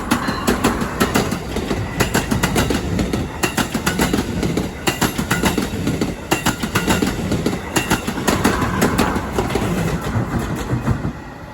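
An Amtrak Keystone passenger train passes close by at Harrison Station, loud rhythmic clickety-clack of wheels over rail joints repeating steadily for the whole stretch, no talk.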